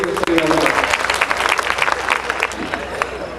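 An audience at a mushaira poetry gathering in Sherkot bursts into dense, sustained applause, loud and close, with voices mixed in beneath the clapping.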